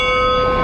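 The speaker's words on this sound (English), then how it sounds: "Bells tolled at a church in Moscow for Alexei Navalny at his funeral" Church bells tolling in Moscow at the funeral of opposition leader Alexei Navalny, a steady sustained ringing tone with long-held overtones, fairly loud and alone.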